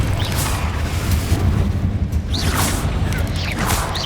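Repeated Confringo blasting spells explode during combat in Hogwarts Legacy, a run of booming bursts and whooshes over a dense, roaring game mix.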